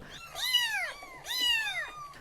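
Two clear, drawn-out cat meows, close and loud, each rising then falling in pitch, separated by a short pause with no other sound.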